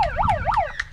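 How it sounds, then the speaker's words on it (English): A wailing halftime siren sounds at a rugby league match between Normanby Hounds and Wynnum Manly Seagulls Juniors, rising and falling in quick sweeps, loud and clear over faint background noise. "halftime siren now, so it won't matter too much who it did go out by."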